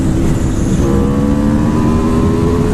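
An Aprilia 1100 motorcycle pulls hard through third gear, its engine note climbing steadily in a loud, continuous, close-up roar with rising tonal harmonics and wind rush, and no one talking.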